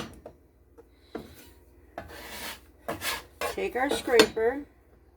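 A metal scraper lifts and folds puff pastry dough on a work surface, giving intermittent scraping and rasping strokes that grow busier and louder toward the end, close up.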